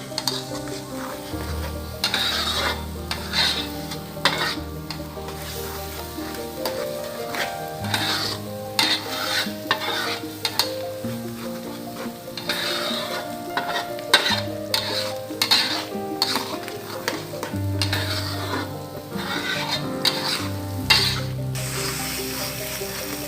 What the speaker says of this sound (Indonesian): Nah kita tinggal aduk aja.